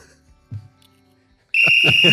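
A loud, sustained whistle blast with shrill pitch bursts in the last half-second, after near silence and a faint spoken word.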